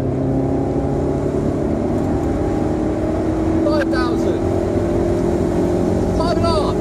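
Alfa Romeo GTV engine revs steadily and climbs through the rev range, heard from inside the car with a sustained droning tone and brief sharper squeals partway through.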